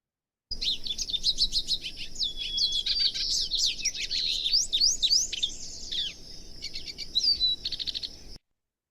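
A goldfinch sings a rapid, varied jumble of chirps, trills and whistled phrases, mimicking other birds such as a white-breasted nuthatch and western tanager, close and clear, with brief pauses near the end.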